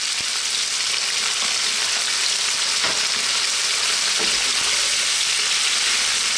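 Onion and cooked chickpeas fry in a pan with salt, a steady close sizzle with a few soft clicks of stirring throughout.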